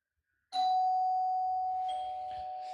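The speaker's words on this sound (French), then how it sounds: "faut trouver un moyen pour la sonnette" A single electronic doorbell chime rings out clearly after a moment of silence, its tone sustaining and then a second note sounding as it fades.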